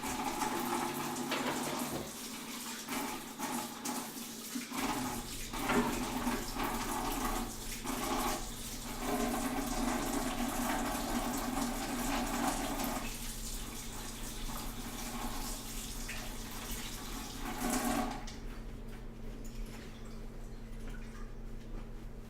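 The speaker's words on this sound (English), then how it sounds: "Give it a little rinse and maybe a spritz with some disinfectant." Tap water runs steadily into a kitchen sink while raw pork ribs are rinsed, the flow holding at a constant moderate level with a few shifts in splash as the meat is turned, then thinning toward the end.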